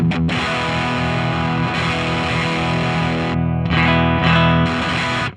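Electric guitar through a modelled Valve Driver overdrive pedal plays sustained, crunchy chords with a brief gap and a final strum, loud and alone.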